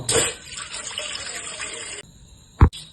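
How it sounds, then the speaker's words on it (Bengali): Water runs steadily from a tap into a saucepan for boiling pasta, a continuous splashing stream that stops abruptly, followed by a single short clunk. "সেদ্ধ করার জন্য সসপ্যানে দিয়ে দিচ্ছি জল"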